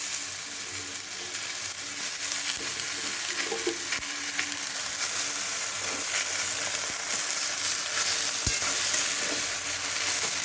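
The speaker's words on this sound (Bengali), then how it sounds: "সবজিগুলো হালকা ভাজা হয়ে গেছে, এখন আমি শাকটা দিয়ে দেবো।" Spinach goes into a pan of lightly fried vegetables for a spinach curry with vegetables and bori, producing a continuous loud sizzle with occasional scraping and stirring sounds throughout.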